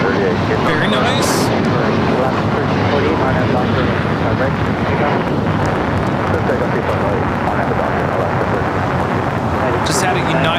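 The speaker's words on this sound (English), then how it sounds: "Just had a United Dreamliner touchdown" A United Boeing 787 Dreamliner, arriving from Tokyo Haneda, touches down at LAX with a loud, steady broadband engine roar that fills the whole stretch, swelling slightly with brief hissy gusts.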